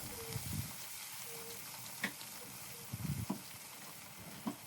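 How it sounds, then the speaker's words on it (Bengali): Turmeric, chilli and mixed spice powders frying in a pan, a faint low sizzle with a few soft scrapes and clinks of stirring, quiet and close with no talking. "মশলাগুলোকে আমি আর কিছুক্ষণ কষিয়ে নিয়ে"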